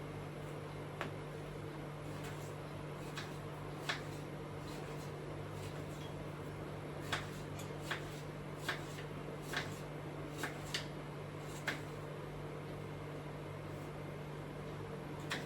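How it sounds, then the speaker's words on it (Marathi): A knife chops beetroot into pieces on a board: faint, sharp, irregular taps spaced a second or more apart over a steady low kitchen hum. "हे बघा, मी आता हा छान ना चिरून घेते."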